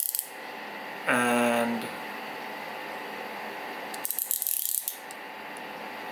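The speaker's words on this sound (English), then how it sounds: "looking at the blade itself, it has a ratcheting system as you retract it" Close, crisp ratcheting clicks from an OLFA Classic 5023 utility knife as its blade retracts, a short rapid burst followed later by a second brief clatter of clicks; a word is spoken faintly.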